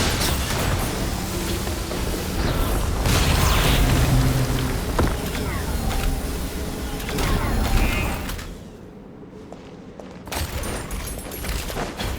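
A loud blast from the video game Genshin Impact follows a warning call, with rumbling debris and a dense, noisy roar for about eight seconds, a short drop to near quiet, then renewed clatter.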